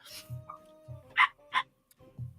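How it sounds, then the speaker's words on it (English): A dog barks a few times in the distance behind a voice call, two short sharp bursts standing out among low rumbling noise and faint background voices. "And I'm getting a dog."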